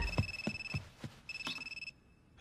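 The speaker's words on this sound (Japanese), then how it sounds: "しまった、携帯だ。" A mobile phone rings indoors, a pulsing electronic ringtone in two short bursts with tapping beats beneath, fairly close and alone before cutting off.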